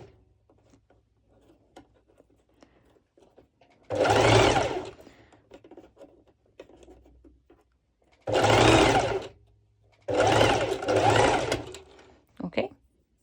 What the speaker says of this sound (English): Then I lower again my presser foot, and I will be going it on the other direction.